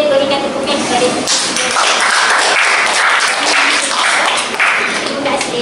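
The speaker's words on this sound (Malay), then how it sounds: "So kawan-kawan lain boleh berikan tepukan kepada kita." Secondary-school classmates in a food design lesson burst into applause after a short stretch of talk, a dense, close clapping that holds steady with voices mixed in.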